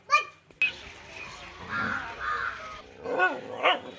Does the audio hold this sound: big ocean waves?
no